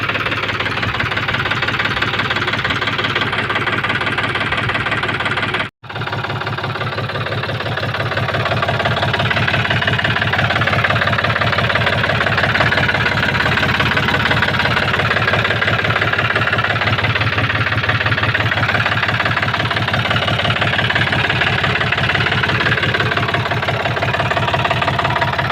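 A John Deere 5104 tractor diesel engine runs steadily at idle, a close, loud knocking chug held for the whole stretch, briefly cut off once before resuming its even throb.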